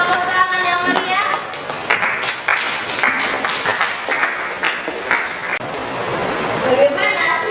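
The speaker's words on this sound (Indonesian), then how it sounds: "kita persilakan kelompok 1, tepuk tangan yang meriah" Students clapping to welcome the first group in a classroom, a burst of mixed hand claps heard close, with chatter and voices talking over it throughout.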